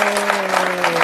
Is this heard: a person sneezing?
no